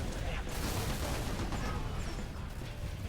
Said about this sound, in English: it's finally doing its actual job as an AA gun and taking out the air